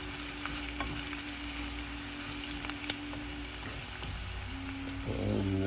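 Ingredients for a pickle sizzle and crackle steadily in a hot pan, a dense, continuous frying hiss with small pops, fairly close and uninterrupted.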